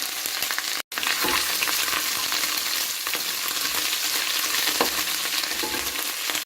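Garlic ginger paste with halved green chillies fries in hot oil in a steady, close, busy sizzle with crackles, cut by one brief silent gap early on, no voices.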